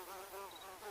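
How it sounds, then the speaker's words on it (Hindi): Mosquitoes buzzing in a room, a thin high whine that wavers in pitch and loudness as the insects move about close by, steady through the moment with no talking. "ये मच्छर यहाँ से आ रहे हैं।"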